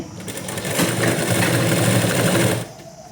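A sewing machine stitches a sleeve in a steady, fast mechanical whir that builds up, runs continuously close by, then stops abruptly near the end.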